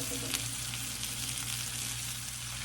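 More cabbage sizzles in a pan with butter and bacon, a continuous close hiss of frying with one brief clack near the start.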